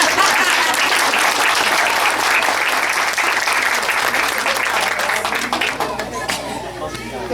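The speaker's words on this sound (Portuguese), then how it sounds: "Palmas pra nós." An audience at an indigenous evangelical women's association gathering in a village applauds loudly and steadily throughout, with light chatter mixed in as the clapping gradually thins toward the end.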